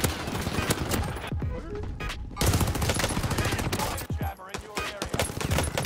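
Rapid bursts of automatic gunfire from a shooter video game, loud and continuous with brief pauses, layered with dense in-game effects and a voice talking underneath.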